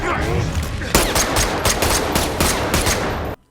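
Rapid bursts of gunfire from a film shootout rattle loudly and densely for several seconds, then cut off abruptly into silence.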